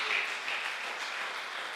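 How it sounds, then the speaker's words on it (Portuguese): A church congregation applauds in a steady, moderately distant wash of clapping, with no single claps standing out. "Quem crê nisso pode aplaudir, pode glorificar o nome do Senhor Jesus."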